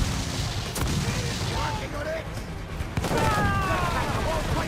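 Deep cannon booms roll through a naval battle in Assassin's Creed 4 Black Flag, fairly loud over a steady rumbling game background, with a person talking at times.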